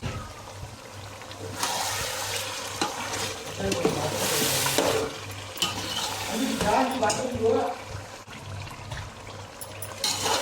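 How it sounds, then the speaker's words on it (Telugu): Mutton biryani is stirred in a pot, producing scraping, clattering and wet sloshing sounds in irregular bursts against a low steady hum, fairly close and moderately loud. "ఒకసారి బాగా మిక్స్ చేసుకున్నాము"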